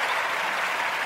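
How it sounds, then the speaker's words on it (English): An audience at a battle rap show claps in dense, continuous applause, loud and close, with no voices standing out. "So let's get a clap for that"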